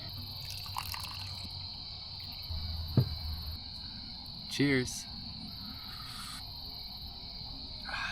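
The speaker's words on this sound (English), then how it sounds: "All I hear is crickets" A steady, high-pitched cricket chorus fills the quiet night on the water, continuous and even, with a brief spoken word and a couple of small nearby clinks.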